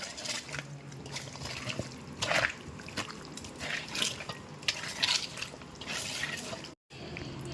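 Chicken pieces are worked together with pepper masala by hand in a bowl, giving soft wet squelching and dabbing sounds in uneven bursts, fairly quiet and close, without talk.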